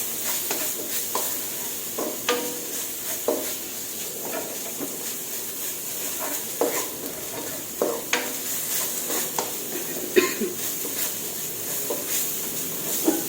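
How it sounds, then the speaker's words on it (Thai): Shrimp paste and lemongrass stir-fried in oil for a Thai pork curry with bok choy, giving a steady sizzle with scattered scraping stirs and clicks of a utensil against the pan, close up with no talking. "แล้วก็พัดกะปิ กับตะไคร้"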